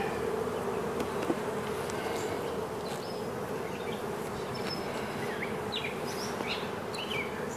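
A honeybee swarm buzzes around beehive boxes outdoors, a dense, steady, close drone that holds unbroken throughout, with faint bird chirps high above it.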